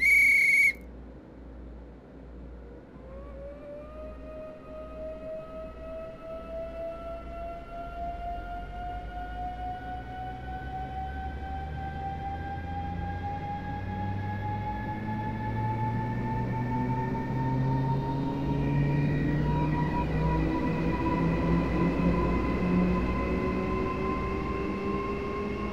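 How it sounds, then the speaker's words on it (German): An ES64F4 electric locomotive in Train Simulator 2018 pulls away from a station, with rising whining motor tones and a deepening rumble that swell steadily as it accelerates, after a brief warning tone at the start. "dass wir aus dieser Ansicht die Abfahrt der Lok und ihren Sound genießen können"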